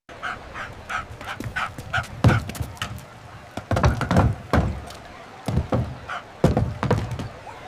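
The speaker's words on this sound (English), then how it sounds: "a Dalmatian goes through obstacles in Italy" Dalmatian running an obstacle course in Italy, with repeated barks, thumps and scrabbling on equipment in irregular bursts, close and fairly loud, some whimpering between.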